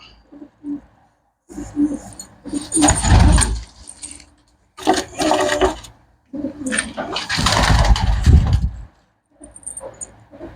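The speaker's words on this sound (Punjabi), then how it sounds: "ਲਓ ਬਈ ਹੁਣ ਤੁਹਾਨੂੰ ਦਿਖਾਉਣਾ ਕਬੂਤਰ" Pigeons at a Punjabi pigeon dealer's, with bursts of cooing and fluttering, close and moderately loud, separated by short quiet gaps.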